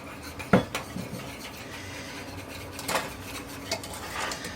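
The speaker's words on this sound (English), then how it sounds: "I'm going to add in my dry ingredients, and I'm going to whisk it" A whisk clinks and scrapes against a pot while dry ingredients go into bubbling chocolate gravy, with a sharp metallic tap near the start and lighter stirring strokes after it, close up and without talk.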